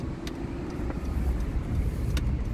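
A car passes on a residential street in the USA, a steady low rumble of tires and engine close behind, sustained throughout with no talk.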